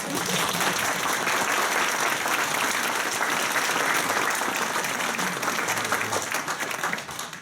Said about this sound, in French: Messieurs, dames, applaudissez s'il vous plaît.